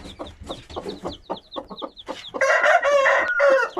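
Chickens and chicks cluck in quick bursts in a coop, then a loud, drawn-out crowing-like squawk takes over, close and busy, with no one talking.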